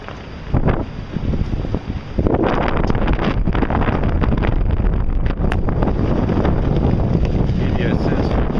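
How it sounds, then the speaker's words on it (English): Strong wind roars and buffets the microphone as a large wedge EF4 tornado passes near Birmingham, Alabama, a loud, continuous rush that never lets up, with a voice briefly audible beneath it. "Give you a sense of the wind."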